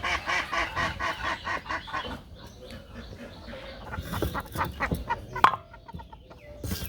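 Ducks and chickens in a village yard, a rhythmic run of clucks and quacks close by, then scattered squawks and calls over faint background noise.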